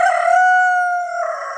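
A chicken kept in a kindergarten sensory garden crows once, loud and close, in a single drawn-out call lasting over a second.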